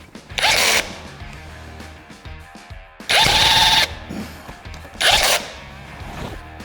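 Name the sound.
power tool running in drilling mode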